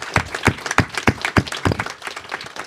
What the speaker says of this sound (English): Please can we have a round of applause for everybody on the panel?